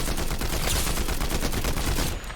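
Fortnite Combat AR assault rifle firing nonstop on full auto, loud, close and steady for the whole stretch with quick evenly spaced shots and no voices.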